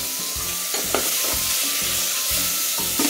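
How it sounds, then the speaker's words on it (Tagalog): Onion and tomato sauté in a frying pan for pork sinigang with taro, a steady sizzle broken by repeated stirring scrapes and clacks, close and fairly loud, with no talking. "gigisa muna natin saglit yung onion. Sabay ng tomato."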